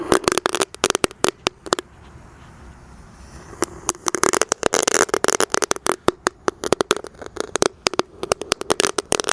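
A whole pack of dino egg firecrackers goes off in a hole in the ground, a long run of loud, sharp, rapid cracks and pops with a short lull before the bursts resume.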